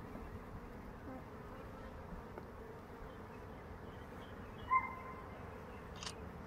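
Honey bees hum faintly and steadily around an open hive during a first hive inspection, with a brief sharper buzz passing close partway through.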